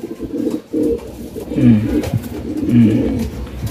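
Checkered breeding pigeons coo in courtship, a cock and hen close together, giving repeated throaty rolling coos that swell and fade over a few seconds, near and fairly loud.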